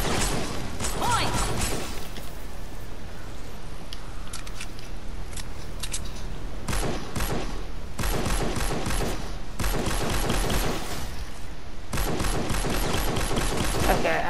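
Gunfire in the video game Fortnite Save the World comes as several rapid, crackling volleys of close shots separated by short gaps, with a clicking, mechanical texture throughout.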